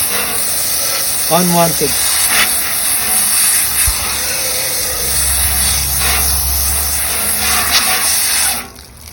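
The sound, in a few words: water jet spraying fish to remove salmon scales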